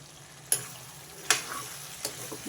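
Mango pieces being stirred into chicken curry in a pan, a low steady sizzle broken by three sharp scraping strokes of a spoon, close up.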